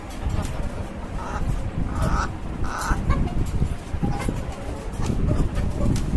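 Caged poultry-farm chickens let out several short squawking calls over a busy, noisy background, with a voice faintly present.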